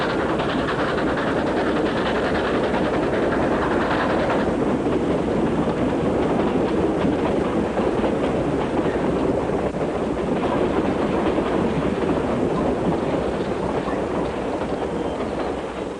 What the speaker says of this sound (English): Look, Julie, you just get on the train, see?